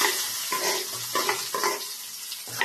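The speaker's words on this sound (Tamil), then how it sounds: "அதை போட்டு நல்லா வதக்கி விடுங்க." Finely chopped shallots sauté in hot oil in a pan, a steady sizzle broken by rhythmic scraping strokes of a spoon stirring about twice a second, close and clear with no talking.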